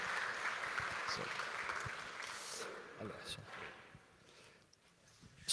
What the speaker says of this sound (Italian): accoglierei con un applauso per ringraziarlo della sua ospitalità